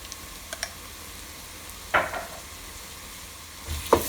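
Ginger garlic paste goes into a hot pan over medium flame for restaurant-style butter chicken. Two short, soft bursts of sizzling and stirring rise from a quiet background, close by.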